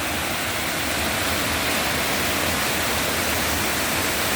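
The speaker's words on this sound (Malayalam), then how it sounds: "കാന്തമ്പാറ വെള്ളച്ചാട്ടം." Kanthampara waterfall in Wayanad, Kerala, heard up close as a dense, unbroken roar of falling water, loud and even throughout.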